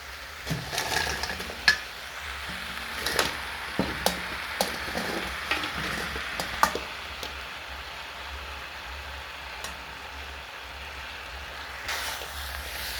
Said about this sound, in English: Now once the cabbages have softened, I'm going to add our pork.